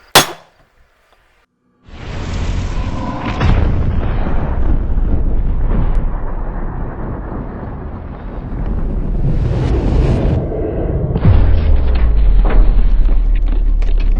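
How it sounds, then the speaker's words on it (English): A single rifle shot, fired for ballistic high-speed filming, cracks loud and sharp at the very start. After a brief silence, a long, blustery roar of wind-like noise follows and grows heavier toward the end. "Bullet splat at 1 million."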